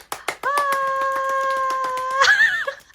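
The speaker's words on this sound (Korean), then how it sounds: "박수 한번 쳐주세요" A small group clapping hands during a winter family trip in Mongolia, with a series of sharp, fairly rhythmic claps close by, a sustained vocal tone held over them, and brief voices at the end.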